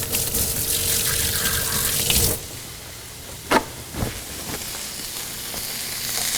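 Kitchen tap water running loudly into a sink for hand washing, cutting off after about two seconds, followed by quiet frying sizzle and a couple of clanks.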